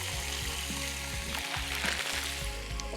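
Chicken chunks fry in soy sauce in a hot pan, giving a loud, steady sizzle that runs unbroken with no talking.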